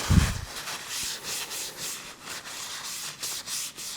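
A chisel held in a KM Tools universal sharpening jig is rubbed back and forth on sharpening stones, making a rhythmic gritty scraping of about eight close strokes, each roughly half a second, after a brief thump at the start.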